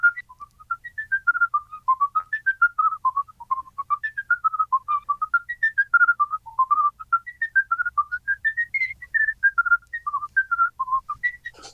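A lively whistled polka with rapid triple-tongued bursts of notes in a bouncy dance rhythm, clear and solo.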